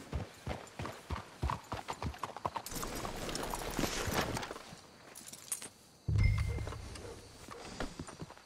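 Horses clip-clop at a walk in the Red Dead Redemption 2 video game, a rapid, even run of close hoofbeats that gives way to rustling movement and then a heavy low thump, with no talking.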